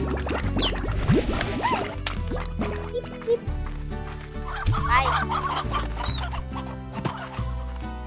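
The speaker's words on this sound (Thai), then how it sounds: "ไก่" Chickens clucking in the video game Slime Rancher, busy overlapping clucks and squawks over game music and effects, with a person talking throughout.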